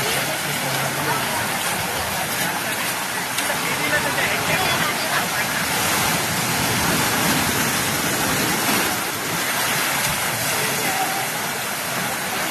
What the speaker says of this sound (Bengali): জলের ফোর্স কিন্তু প্রচুর।